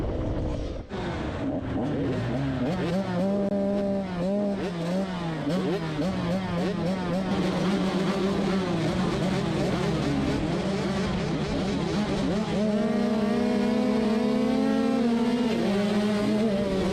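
Motocross motorcycles at a Geraldton motocross round race off the start gate, a dense pack of engines revving and droning loudly together with rising and falling pitch, continuous throughout.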